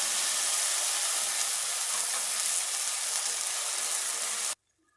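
Tomato paste sizzles in a pan of sautéed onions while a chickpea kulambu cooks: a loud, steady, close frying hiss that runs unbroken for several seconds, then cuts off abruptly near the end.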